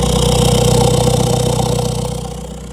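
A diesel engine fitted with a hood stack in a stanced VW Beetle idles while warming up, a steady close rhythmic chug that fades slightly toward the end.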